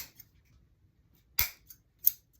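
Scissors snip the ends off zip ties on a spring flower wreath, giving two or three crisp, close clicks separated by short pauses in a quiet room.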